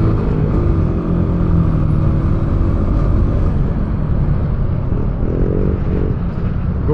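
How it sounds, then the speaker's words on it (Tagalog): Busy, chaotic road traffic with cars and motorcycles, a loud steady rumble of engines close by, with passing revs and a rising whine of an accelerating vehicle near the end. "Ang gulo dito yung traffic."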